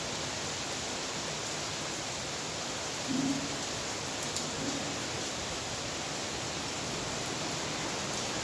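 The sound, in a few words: heavy rain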